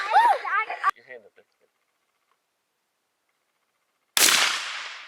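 A Rossi Tuffy Turkey .410 shotgun fires a single loud, sharp blast near the end, after a brief voice and a few seconds of near silence.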